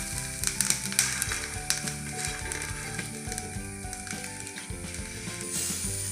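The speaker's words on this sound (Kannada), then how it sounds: "ನೋಡಿ, ತೆಂಗಿನಕಾಯಿನ ಡ್ರೈ ಫ್ರೈ ಮಾಡ್ತಿದ್ದೀನಿ." Grated coconut dry-fried without oil in a pan, with a constant crackling sizzle and ratcheting scrapes of a utensil, close up, over a steady background hum.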